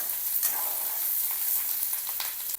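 Onion and coconut sizzle and crackle steadily in hot oil while being stirred, with occasional scraping through the frying.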